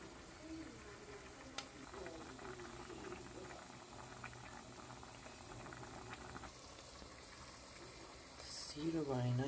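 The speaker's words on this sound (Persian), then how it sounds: "تا رب و تفت بدم با پیاز داغ و سیر داغ" Tomato paste sizzling and bubbling in a pan with fried onion and garlic, a steady close crackle and simmer running throughout, with a louder burst of sputtering near the end.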